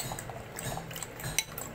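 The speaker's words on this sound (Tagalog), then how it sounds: "Then, haluin natin." A utensil briefly scrapes and clinks against a bowl while stirring a wet mixture of egg and leftover canned tuna, a short close-up burst of soft liquid stirring with one sharper clink.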